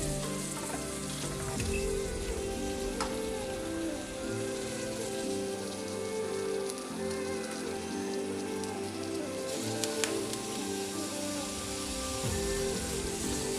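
Broiler chicken meat frying in oil with onions for chicken curry, a steady dense sizzle and crackle close up with occasional stirring scrapes, no talking.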